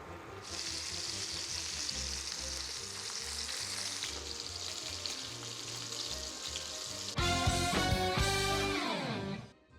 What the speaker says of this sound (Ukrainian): І будемо обсмажувати наші реберця з усіх сторін до золотавої скоринки.